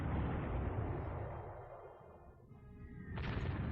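A loud, booming bomb blast in the WWII strategy game Panzer Corps, a deep rumbling explosion fading over a few seconds before a second burst hits near the end.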